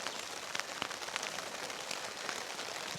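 Rain falls on a tent with its full inner pitched, a dense, continuous patter of drops striking the fabric close by, even and unbroken throughout.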